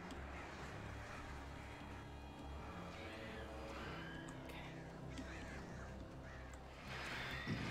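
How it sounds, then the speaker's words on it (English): Crows cawing as they attack in the video game Alan Wake, harsh calls scattered over a steady rumbling game soundscape, building louder toward the end. "Run away from the birds."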